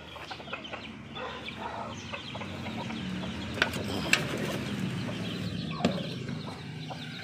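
Chicks peep and chickens cluck among pillars in a backyard poultry area, a steady stream of small chirps with a few sharper calls and some mechanical clicking, moderately close, with no talk.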